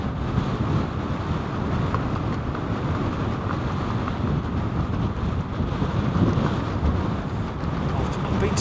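Gusty, blustery wind buffets the microphone beside the runway at RAF Lakenheath, a steady loud rumble with no let-up throughout.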